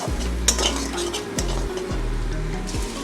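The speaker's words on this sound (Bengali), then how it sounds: "সমস্ত কিছু মিশ্রণকে ভালো করে আমি সঙ্গে আবারও মিশিয়ে নেব" A spice mixture with ground coriander and chilli powder is stirred in a pan for an egg and spinach curry. A spoon scrapes in several rhythmic strokes over a close, steady sizzle, with no talking.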